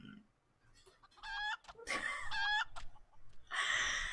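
A rooster in the Final Fantasy XIV video game crows and clucks in several short bursts of harsh, strained calls, fairly close and clear against a quiet background.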